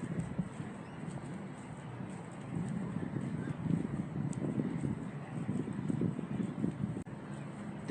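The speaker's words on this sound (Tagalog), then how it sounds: "lumakas yung simoy ng hangin dito sa area na to" Steady wind gusting outdoors on a city street among tall buildings in Newcastle, New South Wales, Australia, a continuous broadband rush with microphone buffeting throughout and faint bird sounds.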